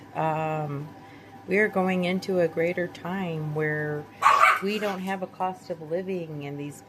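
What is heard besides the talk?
dogs barking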